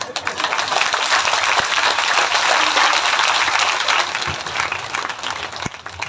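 Applause at a Hindu religious discourse gathering, a dense, steady wash of many hands clapping together for several seconds, loud and continuous before thinning slightly toward the end.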